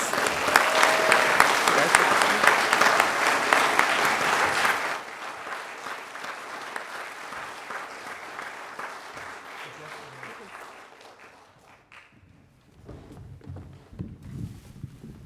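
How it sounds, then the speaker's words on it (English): Congregation applause at a Sunday church service, loud and dense for about five seconds, then thinning into quieter scattered clapping that fades, with voices murmuring underneath and a brief swell again near the end. "Let's give them one more round of applause."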